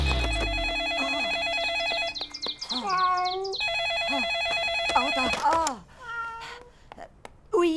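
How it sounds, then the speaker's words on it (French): A cartoon telephone rings on and off with repeated electronic trills, while animated character voices, exclamations and music-like tones overlap throughout. "et ce maudit téléphone qui n'arrête jamais."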